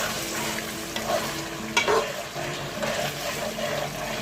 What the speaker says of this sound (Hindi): प्याज हमारा तकरीबन जो है ना पक चुका है। तो अब मैं इसके अंदर ऐड करूँगा कुटी हुई लाल मिर्च 1 टीस्पून।